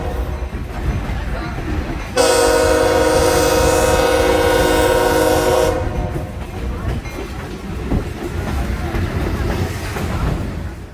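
A Buckingham Branch Railroad train in central Virginia sounds its horn at a road crossing: one loud sustained blast lasting several seconds over rumbling, clattering rail noise, which continues after the horn stops.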